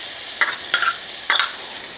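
Minced garlic and a diced shallot sizzle in melted butter in a pan, with three short scraping strokes of a stirring utensil over a soft steady sizzle.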